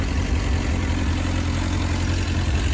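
A Suzuki GSX 600R motorcycle with a lack of power idles steadily at around 1300 rpm, giving an even, low, close-up engine rumble with no talking.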